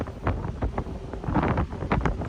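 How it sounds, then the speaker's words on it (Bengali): Strong wind buffets the deck of a rolling ship on the Atlantic Ocean, a continuous loud roar with gusting surges and thumps, with spray striking the forward part of the ship. "খুবই প্রচন্ড বাতাস।"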